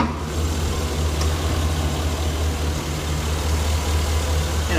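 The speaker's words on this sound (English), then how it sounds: "Hood's your 6-liter Vortec V8. You get tons of power, tons of torque, running nice and smooth." A 2013 Chevrolet Silverado 2500 4x4 with a 6-liter Vortec V8 idles smoothly, a loud, steady low rumble with no talk over it.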